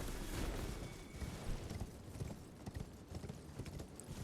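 Horse hooves clip-clop in a steady galloping rhythm in the video game Elden Ring, fairly faint and mixed with game ambience.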